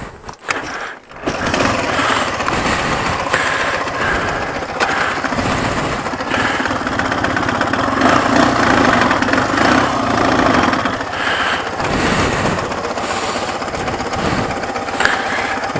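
A motorcycle engine catches after a brief quiet moment, then settles into a loud, close, steady idle with an even mechanical chug throughout.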